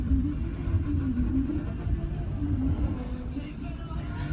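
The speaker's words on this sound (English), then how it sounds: "This train comes through." A train rolls steadily past on the rails during a scenic luxury ride near Sedona's red rocks, a continuous low rumble and rattle with no break across the whole stretch.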